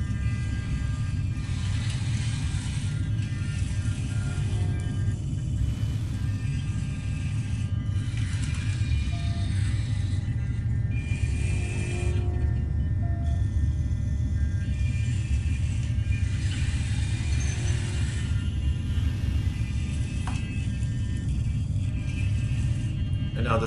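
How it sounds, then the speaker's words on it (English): Servo mechanisms drive a game-playing robot's gripper through a move, a continuous mechanical whir and grinding hum with shifting motor tones, steady and fairly loud throughout. "how the grip, the servo mechanisms work."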